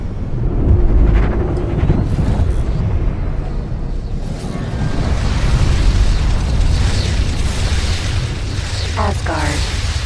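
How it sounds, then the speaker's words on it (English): A big gun fires in the X4 Foundations space game, a loud rumbling boom with sustained low roar and wind-like noise throughout, a speaking voice under it. "Ooh, look at that. That's the big gun."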